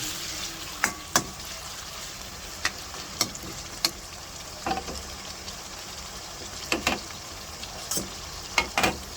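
Pork frying for adobo in a pan, a steady close sizzle broken by scattered sharp clacks and scrapes of stirring at irregular intervals, with no voices.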